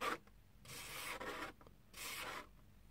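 A palm sweeping across coarse 80-grit sandpaper, three soft, close scratchy rubs in a steady back-and-forth rhythm with brief pauses between strokes.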